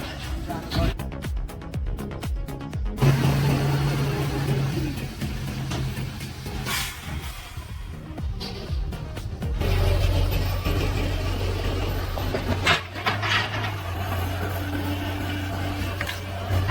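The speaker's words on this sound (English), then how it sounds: "he skillfully reversed, then carefully hit the gas and powered up the steep slope." A heavy logging truck climbs a steep mountain pass, its engine droning and revving in bursts with clattering mechanical noise, loud and near, mixed with background music and some talking.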